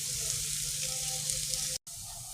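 Onion frying in a pan, a soft steady sizzle close by with faint stirring, cutting out briefly near the end.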